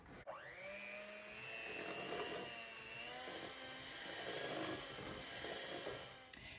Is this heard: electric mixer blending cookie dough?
yes